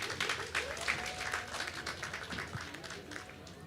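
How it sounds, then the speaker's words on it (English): A crowd applauds at a political dialogue forum as a speaker walks up to the stage, brisk dense clapping that stays fairly loud and even throughout, with faint voices mixed in. "Give him a round of applause as he comes."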